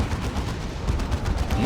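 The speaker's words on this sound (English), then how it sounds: "Oh, rear armor hit from the plasma cannon" Plasma cannon fire in the Dawn of War 2 strategy game, a brief dense burst of loud crackling blasts inside steady battle noise.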